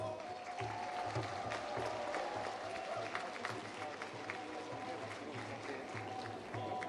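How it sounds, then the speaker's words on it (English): A crowd applauds cultural troupes at the Hornbill Festival in Nagaland, a dense, steady round of clapping from a large audience that holds evenly for several seconds. "Shall we give all our cultural troops an encouraging round of applause?"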